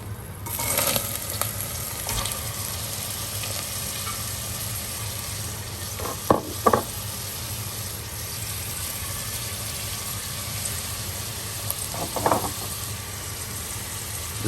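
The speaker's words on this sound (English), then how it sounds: "2 tablespoons of olive oil, heat it up, and then fry these ingredients." Ingredients frying in hot olive oil for lentil soup, a steady, fairly loud sizzle throughout with a few brief scrapes and clatters of stirring.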